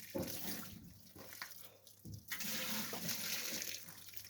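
Water runs from a tap in a steady rushing stream, briefly interrupted and then flowing again, fairly close and moderately loud, filling water for feeding horses.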